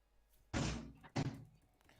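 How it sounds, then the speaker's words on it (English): A door slams twice in quick succession somewhere in a house, two fairly loud thumps about half a second apart against a quiet background. "There goes a door."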